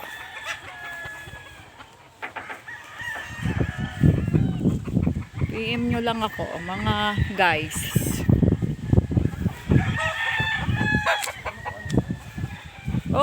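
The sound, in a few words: chickens and roosters crowing on a farm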